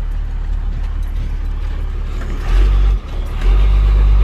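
A 1994 Dodge Ram Cummins dually diesel pickup rolls along from inside the cab, a steady, loud low engine rumble that deepens and swells slightly in the final seconds.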